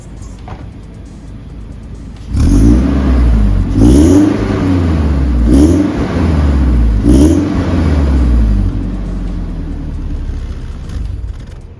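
A Toyota Hilux GR pickup's engine is revved at night, rising through four or so sharp throttle blips over a deep idle before settling back to a steady rumble.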